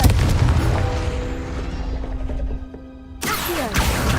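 A Confringo blasting curse detonating in Hogwarts Legacy, one heavy booming blast up front that rumbles and fades, followed by a sharp second crash near the end, no talking.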